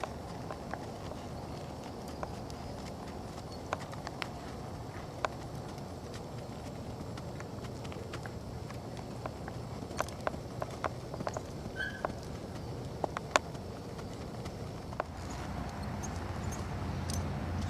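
Hooves of a lively young mare clip-clop in a steady walking rhythm at moderate distance, soft against a quiet outdoor background.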